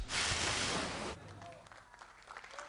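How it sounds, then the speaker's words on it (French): Applause from members of a municipal council in Bordeaux, a dense burst of clapping for about a second that cuts off abruptly, followed by quieter room sounds and faint voices. "La majorité du conseil municipal applaudit."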